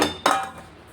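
Kalakand mixture scraped from a pot into a ghee-greased bowl, giving a brief metallic scrape and clink near the start, followed by a fading ring.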